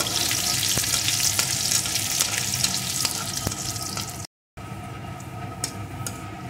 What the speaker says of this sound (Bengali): এর ভিতরে দিয়ে দেবো আমি রসুন কুচি। রসুন কুচিটাও ভেজে নেব।